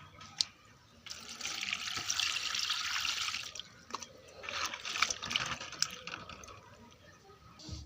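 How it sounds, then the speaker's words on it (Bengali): Malabar spinach (pui) leaves being washed in water at a sink, with a steady running-tap splash and swish in two long bursts, near and fairly loud, separated by a brief lull and a few small clinks. "এখন ভালোটিকে ধুয়ে নেব।"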